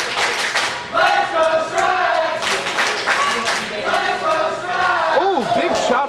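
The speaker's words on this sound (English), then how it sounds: "Can't deny that this crowd is clearly behind Melissa Stripes." A wrestling crowd cheers and shouts throughout, loud and sustained, with rising yells and chant-like swells filling the arena.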